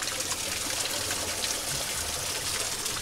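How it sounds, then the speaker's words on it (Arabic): Cold spring water flows out of a mountainside at Sumela Monastery near Trabzon, Turkey, a steady, close trickling and splashing stream with no pauses. "هذا منحنى تطلع المي من نص الجبل"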